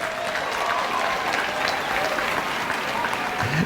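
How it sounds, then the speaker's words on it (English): A round of applause from the audience at an FFA speech event, steady crowd clapping of moderate loudness that carries on throughout. "you give that one a round of applause"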